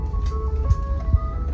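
An ice cream truck plays its steady chiming jingle melody nearby, with a low vehicle engine rumble underneath and a couple of soft thumps, no talking.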